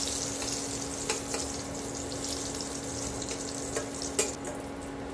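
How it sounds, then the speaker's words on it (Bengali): Salted eggplant slices frying in oil in a pan, a continuous close sizzle with a faint steady hum and a few sharper crackles and clicks as the pieces are turned. "এপিঠ ওপিঠ ভালো করে ভেজে নিচ্ছি"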